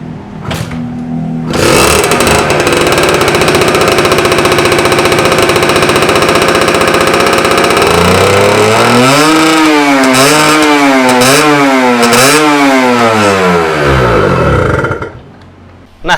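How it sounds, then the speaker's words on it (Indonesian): A two-stroke motorcycle with a standard exhaust revs hard and loud, holding a steady buzzing drone before a series of rising and falling throttle blips near the end, with no one speaking. "motor 2 tak yang terkenal suaranya kenceng, padahal pakai knalpot standar"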